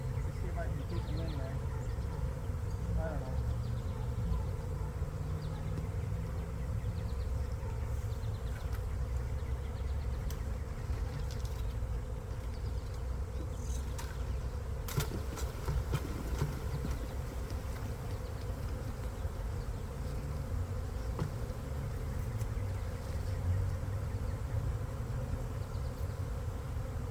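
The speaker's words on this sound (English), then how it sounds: "These are some mean bees, man." An angry swarm of bees buzzes around a lunch-time outdoor spot, a dense continuous drone with occasional closer passes and faint knocks, while a person speaks quietly beneath it.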